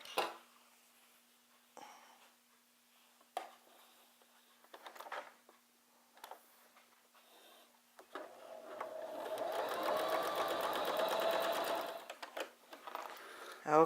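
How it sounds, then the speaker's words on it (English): A sewing machine stitches a quilted baby blanket, running steadily for several seconds after scattered soft clicks and handling noises, fairly close and alone. "you're going to sew straight down that line."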